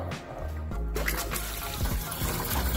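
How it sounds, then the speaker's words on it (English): A Dometic 970 five-gallon portable toilet flushes with a rush of water, swirling and trickling close by, continuing steadily to the end. "you push the flush button,"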